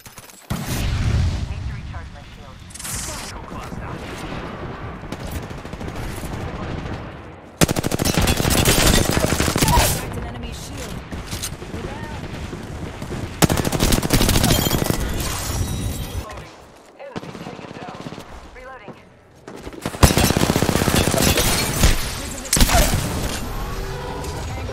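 Gunfire fills a shooter video game, with loud sustained automatic bursts and rattling volleys in long stretches separated by brief quieter gaps, along with crashes and game voices in between.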